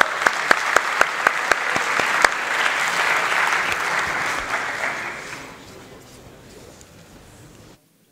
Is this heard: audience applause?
yes